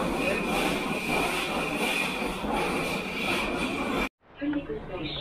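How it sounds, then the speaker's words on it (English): Loud, steady rumble and rushing roar inside a moving subway car, wheels humming continuously, then a sudden drop to near quiet near the end. "And this is the situation on the metro."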